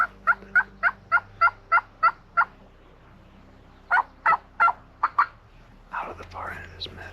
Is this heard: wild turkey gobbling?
yes